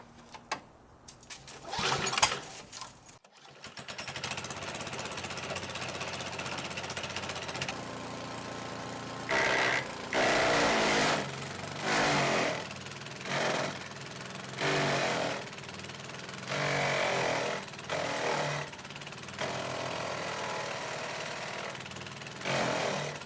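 Old power equipment rescued from the dump sputters to life, then runs in repeated loud revving bursts while cutting a 2-inch tree branch, close and harsh with brief dips between surges.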